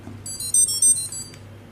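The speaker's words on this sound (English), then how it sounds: "We will hear some music come from the brushless motor" Swiwin turbine brushless motor sounds its startup tones after the battery is plugged in: a short series of high electronic beeps over a low steady hum, fairly faint and with no talking.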